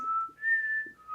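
Someone tries to whistle and gets out a short, wavering tone that slides up to a higher pitch and back down, close and clear over about a second.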